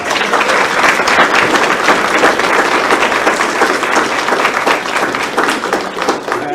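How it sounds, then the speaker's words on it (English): An audience at a report release on homelessness in Winnipeg applauds, producing a dense, sustained wash of clapping that stays loud and even throughout before tapering slightly at the end. "Can we all give her a round of applause?"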